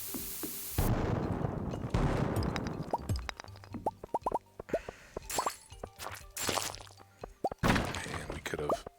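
Cherry bombs bursting in the Stardew Valley farming game, a string of sharp pops and booming blasts scattered irregularly, some close and loud, others softer, with a person talking over and between them.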